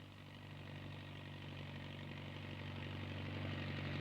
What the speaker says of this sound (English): Multi-wall bags are used for this purpose and conveyed by trailer and tractor to the local dump.